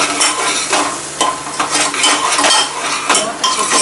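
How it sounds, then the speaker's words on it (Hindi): Onions for garlic-onion pulao frying in a pan while a spoon stirs them, a loud close sizzle with repeated scraping strokes at a steady pace and no talk. "और इसे अभी अच्छे से चलाएंगे।"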